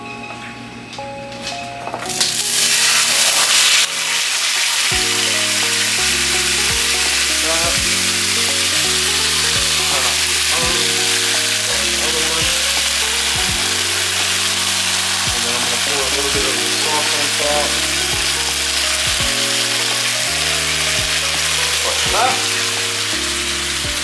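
Teriyaki-marinated steak, soaked for a day, sizzles loudly and steadily in a pan after a brief clatter at the start, with music playing underneath throughout.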